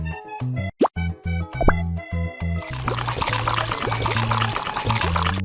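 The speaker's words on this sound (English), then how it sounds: "Let's filter the coconut juice." Cartoon-style pouring and plopping of coconut juice as it is filtered in a children's pet care game, a steady liquid stream running for several seconds over a looping bouncy music track.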